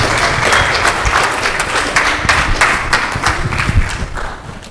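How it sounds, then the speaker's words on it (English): Audience applause at a TEDx event at UHAS, a dense sustained crowd of clapping hands filling the room at steady loudness, with no voices over it. "A round of applause for you."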